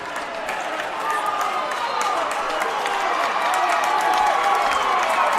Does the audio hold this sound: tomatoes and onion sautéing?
no